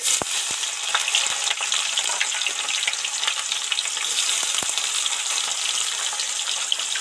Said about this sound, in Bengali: এবার এর মধ্যে পেঁয়াজ কুচিটা উঠিয়ে দেব।